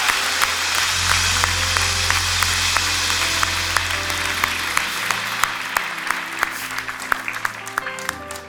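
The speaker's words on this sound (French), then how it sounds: "on peut applaudir et accueillir les enfants de l'Église?" Audience applause welcoming children of a church congregation, steady sustained clapping with sharp individual claps standing out, under a low continuous hum.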